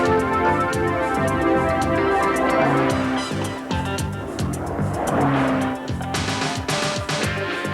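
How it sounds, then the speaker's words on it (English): Ferrari F40 sports car from 1989 driven hard on a test track, loud engine roar with tire squeal and skidding, rising and falling as it passes, continuous throughout with no talking. "This is the fastest production car in the world, the Ferrari F40."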